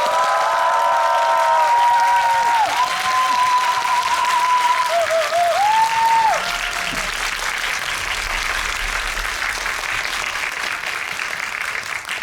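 A packed cinema audience at a Korean film talk event gives loud, continuous applause to welcome two directors, with light cheering and a few sustained musical tones over the clapping early on.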